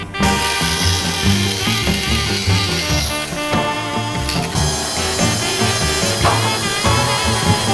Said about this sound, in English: just run it through the bandsaw